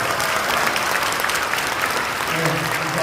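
Dense, sustained applause from a large congregation at a Sunday school association anniversary assembly, a continuous wash of clapping with a voice faintly audible underneath.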